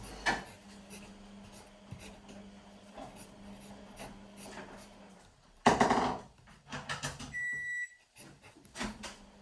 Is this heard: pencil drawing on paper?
yes